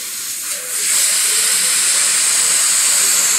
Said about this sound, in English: Now I'm going to add just a little bit of a overspray over top of the line that I just created.